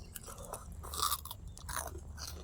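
Crispy pork rinds chewed up close, with quiet crunches and soft mouth sounds that come and go with no talking.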